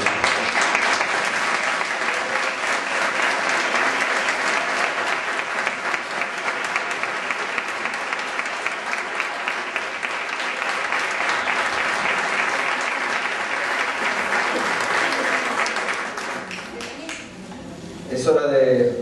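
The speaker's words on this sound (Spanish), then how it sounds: "Lo recibimos con un aplauso." Crowd at a tribute ceremony for a bust honoring Manolo del Campo applauding as an offering is brought forward: sustained, dense clapping from many people for nearly twenty seconds, dying away at the end with a voice breaking in.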